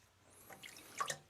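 Water dripping onto a resin-bonded diamond whetstone while sharpening a knife, a few soft close drips and small splashes over a quiet background.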